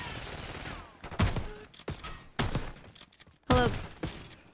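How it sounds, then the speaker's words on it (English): A shotgun fires repeatedly in the Black Ops 6 campaign game, several sharp booming blasts spaced about a second apart, each with a short ringing tail, with faint game effects between shots. "A shotgun. Don't mind if I do."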